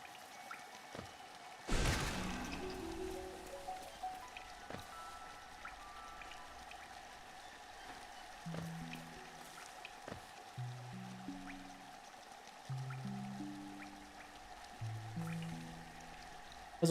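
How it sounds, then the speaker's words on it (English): Soft, steady patter of rain falling outside, with scattered drips and a sharp knock early on, alongside faint musical tones. "Turns out it's raining outside."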